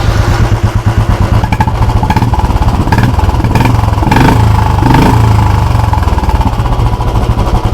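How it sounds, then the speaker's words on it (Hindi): A Royal Enfield Bullet 350 motorcycle engine runs steadily close by, a loud, continuous thumping chug with dense rhythmic pulses and mechanical clatter, slightly swelling midway, with no talking. "ये साउंड है बुलेट का।"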